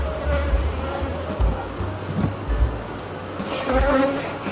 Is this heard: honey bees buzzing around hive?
yes